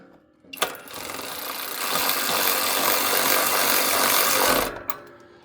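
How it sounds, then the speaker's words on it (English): A power ratchet drives bolts on a Jeep Gladiator running board side step bar, giving a steady, loud, buzzy whir that holds for about four seconds before stopping abruptly. "I'm gonna use a power ratchet because I'm feeling a little lazy today."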